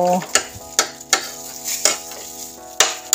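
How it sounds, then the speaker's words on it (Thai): Chili stir-fried with fiddlehead fern in hot oil: a steady sizzle under repeated scraping and clanking of a spatula against the pan, several sharp strokes, close and clear, with no speech. "ตักพริกโปนลงไปกับผักกูดเลยนะคะ"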